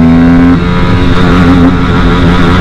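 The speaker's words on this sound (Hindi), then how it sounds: "अभी फर्स्ट गियर पे डाल दिया हूँ तक जा रही है" An Aprilia RS 457 sport motorcycle pulls hard in first gear, its engine a loud, steady, close roar with a sustained droning tone and no speech over it.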